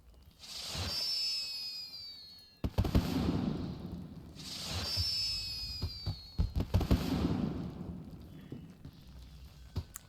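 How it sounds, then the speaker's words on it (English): Video game fireworks in a wedding celebration scene rise with whistling launches and then burst into crackling, rumbling explosions. The volleys come in repeated waves, loud and layered, with no talk over them. "you got like massive amounts of fireworks over here as well"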